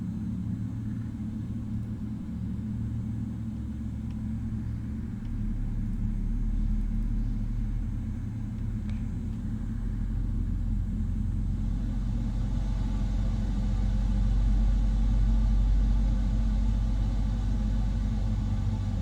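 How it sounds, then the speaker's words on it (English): Boeing 777-300ER jet engine spooling up during start in Microsoft Flight Simulator 2024, a steady low rumble and broadband whine that grows louder and deeper over the clip, heard alone with no talk. "Starting engine 1."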